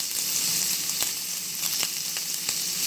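Oil sizzles in a skillet for ham fried rice, a steady close hiss broken by a few light pops and taps.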